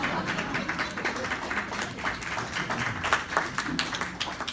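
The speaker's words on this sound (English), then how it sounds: "See 4 people clap." A few people clapping at a company founders' speech event, sparse uneven claps near a scattered crowd, moderately quiet, continuing for a few seconds without talk.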